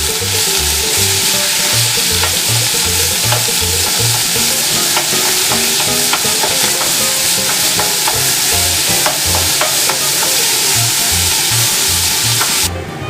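Lean ground beef, a full pound, browns in hot oil in a pan, giving a loud, steady sizzle and crackle with occasional scrapes and stirring clatter, no voices over it.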